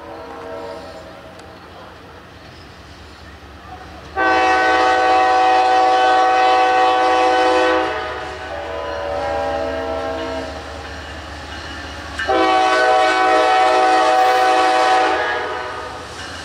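An RS5T diesel locomotive at a railfest sounds its horn in two long, loud multi-tone blasts separated by a fainter stretch, over a low engine rumble.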